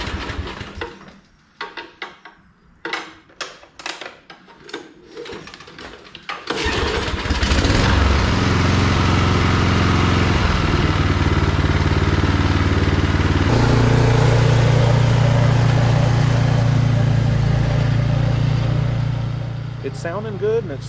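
A John Deere snow blower fitted with a new carburetor is heard up close. Scattered knocks and handling sounds come first, then the engine fires and settles into a loud, steady roar that shifts in pitch before easing off.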